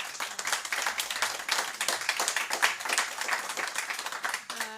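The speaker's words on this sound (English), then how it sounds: "A round of applause for our panel, please." An audience claps for a panel at a talk on the future energy system, with steady, fairly close applause building in dense rapid claps and fading at the end.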